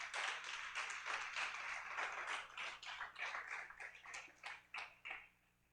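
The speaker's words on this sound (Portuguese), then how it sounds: "Aplauda ao Senhor Jesus com alegria mais uma vez." A church congregation applauds together in a dense, even patter of many hands that thins out and fades near the end. The applause is faint and distant, with no voices heard.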